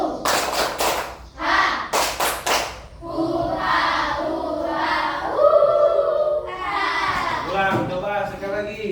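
A group of children doing the jungle clap (tepuk tangan rimba), sharp bursts of rhythmic clapping and thumps near the start, followed by a loud group chant with voices overlapping.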